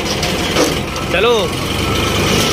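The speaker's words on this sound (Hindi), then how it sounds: "अपन लोग ट्रैक्टर में बैठते हैं।" A tractor engine runs at a steady idle, a close, loud low rumble that carries on throughout while a voice briefly sounds over it.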